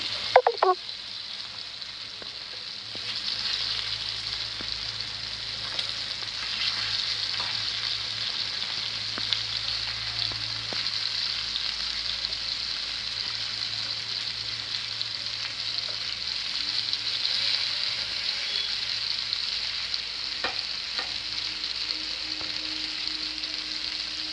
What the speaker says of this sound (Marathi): मच्छी फ्राय केली आहे आपण पलटी मारून घेऊया